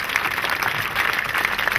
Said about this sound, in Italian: si chiama Paolo Vincentelli, fategli un applauso